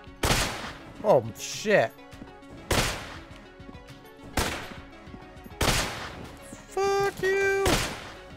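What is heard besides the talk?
M1 gunfire in video game Enter the Gungeon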